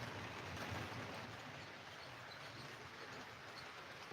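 An American Flyer model train locomotive runs steadily along its track, a continuous low rumble and faint clatter holding at an even, moderate level throughout.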